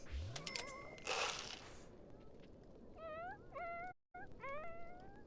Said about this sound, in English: I'd not heard a cat make a noise like that in real life.